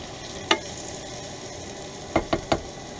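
Sausage and peppers being stirred in a pan over a steady sizzle, with one sharp utensil scrape early and then three quick scraping strokes in a row near the end, no talk.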